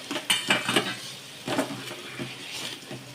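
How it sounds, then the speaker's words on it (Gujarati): Kidney beans are stirred into turmeric and chili spices in a pressure cooker for rajma, giving close, repeated scraping and clattering strokes over a light sizzle, with no talk. "હવે આની અંદર આપણે રાજમા બધા જ એડ કરી દઈશું."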